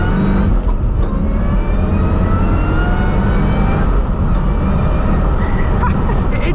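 The 500 hp Mustang Terminator with a Tremec manual gearbox roars continuously from inside the cabin, a loud, steady engine drone under acceleration with brief dips that suggest quick gear changes.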